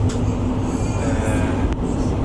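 Steady low rumble and rattle inside a moving passenger train travelling from an airport in Amsterdam, loud and continuous with a brief clunk near the end, no talking.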